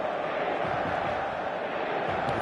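Dense stadium crowd roar on match day, a steady loud wall of massed voices and chanting holding at an even level from start to finish with no pauses.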